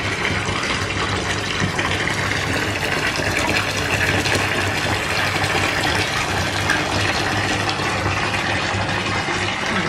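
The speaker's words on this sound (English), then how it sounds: "Let's put some oil in the bath." Bath oil poured into a bath as the tap runs, lost in a steady, loud rush of running water that fills the tub throughout, with no voices.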